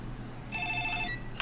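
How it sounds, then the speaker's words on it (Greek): Brief electronic mobile phone ringtone in a horror video game, a bright warbling tone lasting under a second over quiet background. "Θα χτυπήσω κινητό τώρα"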